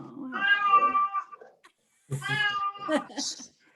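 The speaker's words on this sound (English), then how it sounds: "She's meowing." Two drawn-out, high meows from a cat close by, separated by a brief pause, the second ending in a sharper rising cry.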